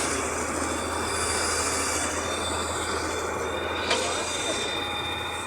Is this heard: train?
yes